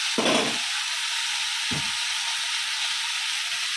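Whole spices temper in hot oil for a vegetarian dish, giving a loud, steady sizzling hiss throughout. Two brief low thuds break in near the start, and no one speaks.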